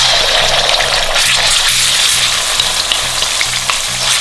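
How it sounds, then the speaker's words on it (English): Ginger garlic paste fries in hot oil with a bay leaf, making a loud, dense, continuous sizzle close by, with a faint regular pulsing hum underneath and no voices. "now you let the ginger garlic paste fry for 2 to 3 minutes till the rawness goes in"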